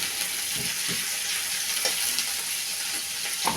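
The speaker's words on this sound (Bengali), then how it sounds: "তো চিংড়ি মাছও ভেজে নিচ্ছি।" Shrimp frying in hot oil for a vegetable chorchori with jackfruit seeds: a dense, steady sizzle and crackle, close and continuous, with a few soft stirring scrapes.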